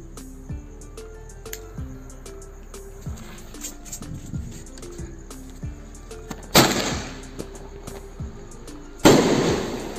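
Sky shot fireworks at a New Year celebration launch with repeated sharp pops, then two big bursts boom out loudly with crackling tails, all outdoors with no talk.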